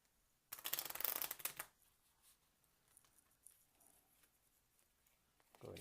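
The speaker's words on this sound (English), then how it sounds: "So we'll add in those discards and shuffle it up." A deck of cards for the Dungeon Degenerates board game is riffle-shuffled in one quick, crisp burst close by, followed by soft handling noises and quiet room sound.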